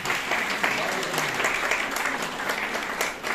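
Sustained applause from an audience at an Aipan art competition held in Govardhan Hall, Nainital, a dense even patter of many hands lasting the whole stretch.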